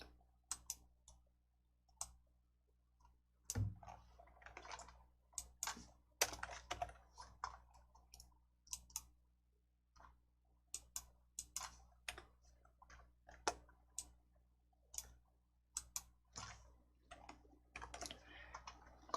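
A computer keyboard clatters with sparse bursts of typing and separate key presses, including a Ctrl+F10 shortcut, sharp close clicks spaced irregularly over a quiet background.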